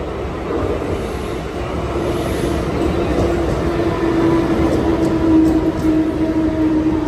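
A train rolls steadily past, a continuous loud rumble with a sustained high whine rising toward the end, no voices.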